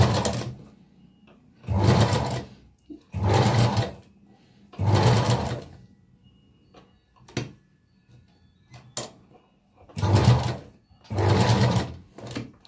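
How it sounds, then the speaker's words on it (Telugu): A sewing machine stitches the curved back neck of a boatneck blouse in short bursts of rapid mechanical whirring, separated by pauses with faint clicks and handling of cloth, close and alone. "ఇలా సూదిని దించి మొత్తం కర్వ్స్ మొత్తం స్టిచ్ చేసుకుందామండి"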